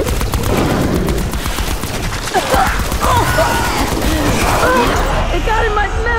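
Gunfire rattles steadily at close range, shooting tigers in Call of Duty Black Ops 4 Zombies, with rapid bursts that continue throughout under excited speech and gasps.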